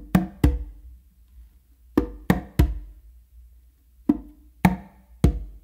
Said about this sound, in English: I'm gonna do a finger with my non-dominant hand, then a close slap with my dominant hand on the tumba,